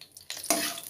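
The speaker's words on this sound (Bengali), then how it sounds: "হালকা একটু ভেজে নেব।" Whole spices such as cinnamon, dried chilies, cumin and halved bay leaves frying in oil, a brief burst of hissing sizzle that swells up suddenly, close by with no talk.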